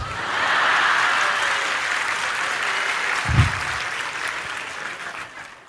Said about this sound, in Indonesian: Kalau mau tepuk tangan, kalau ragu nggak usah.